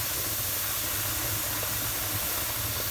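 A pressure canner at full steam, processing turkey bone broth, gives a steady, even hiss of venting steam that continues unbroken throughout.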